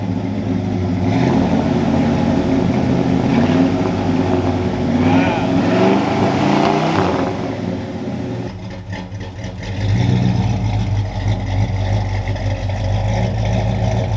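A 1965 Ford Fairlane 500 with its 289 V8 and aftermarket exhaust cranks and fires up, then revs and settles into a loud, rumbling run close by, with voices talking over the engine.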